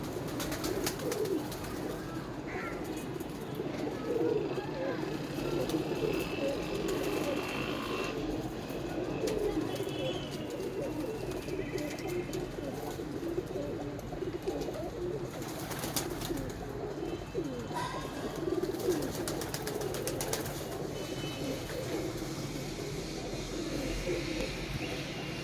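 Pigeons, among them pure Mamdeen birds, coo in a steady overlapping murmur that runs the whole time, with occasional higher calls and no talking.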